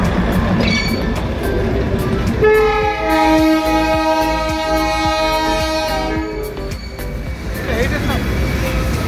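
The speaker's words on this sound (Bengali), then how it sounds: "ওই দেখো টয় ট্রেন আসছে, টয় ট্রেন।" A toy train on the Kurseong to Darjeeling line rumbles close by and sounds a long, loud horn for several seconds, with rail clatter underneath and people talking over it.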